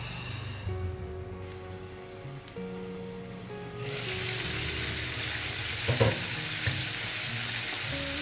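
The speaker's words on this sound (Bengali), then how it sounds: "যাতে জলটাও তাড়াতাড়ি মরে যায় আর এটাও বেশ ফ্রাই হয়ে যায় চিকেনটাও" Chicken cafreal, a Goan dish, frying hard over a high gas flame, a steady sizzle that swells louder midway and carries occasional stir clatters, close and continuous with no talk.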